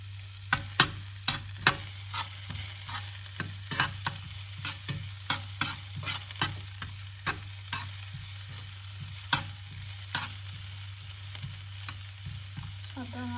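Onion frying in a pan at home, a soft continuous sizzle under repeated sharp scrapes and knocks of a spoon stirring against the pan, close and irregular, with a steady low hum behind.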